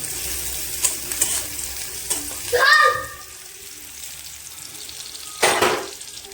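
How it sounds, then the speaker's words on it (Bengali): Halved green chili and onion frying in a pan, a steady close sizzle broken by a few brief scraping stirs and a louder burst of crackle near the end. "এবার ভালো করে এটাকে ভেজে নেব"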